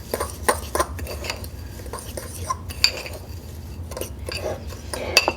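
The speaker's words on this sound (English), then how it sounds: "just make sure all of your breadcrumbs are moistened with the butter" A utensil works panko breadcrumbs into melted butter in a bowl, scraping and clinking against the sides with an irregular, busy rhythm of small knocks and rustles, close and fairly loud over a low background hum.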